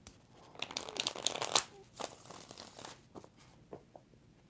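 Tarot cards shuffled by hand during a live reading, a soft papery riffling and rustling that swells in a dense burst then trails into lighter scattered flicks, close and quiet.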